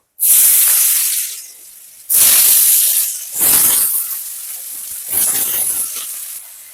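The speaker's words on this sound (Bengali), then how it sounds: "এরপর এতে কেটে রাখা আলুগুলোকে ছেড়ে দেব" Cut potatoes are dropped into hot oil with tempering spices, letting out loud, close bursts of sizzling hiss, four surges that each fade to a lower crackle.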